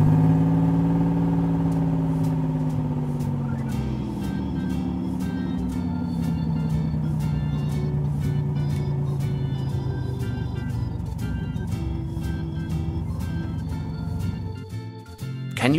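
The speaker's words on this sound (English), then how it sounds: "The hay is brought in on a trailer by this tractor." A toy tractor pulls a hay trailer in a toy railway farm scene, giving a steady motorized hum with a rapid, regular clicking that runs throughout and falters briefly near the end.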